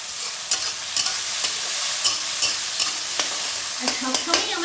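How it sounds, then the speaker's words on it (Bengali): Bitter gourd fries in a pan with a constant bright sizzle, close up. A spatula scrapes and stirs it in repeated short strokes, and no voices are heard. "ভালো করে ফ্রাই করতে হবে"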